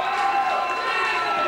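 Wrestling crowd cheering for Osiris at a pro wrestling event in Holland, Michigan, a steady roar of voices filling a hall, continuous and fairly loud with no clear individual voices.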